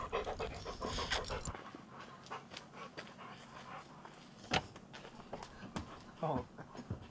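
A dog pants rapidly after a hike at an Arizona wild camping spot, quick close breaths in an uneven rhythm with some rustling and a few brief louder bumps, fairly quiet overall.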